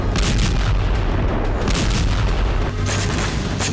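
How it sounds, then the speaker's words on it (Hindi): A powerful explosion at Russia's Primorsk port on the Baltic Sea, struck at night by Ukrainian drones, comes through as a loud, continuous deep rumbling roar with heavy low booms and no voices. "यहां यूक्रेन के टारगेट पर रूस का प्रिमोर्स्क पोर्ट था, जहां बीती रात जबरदस्त धमाका देखा गया"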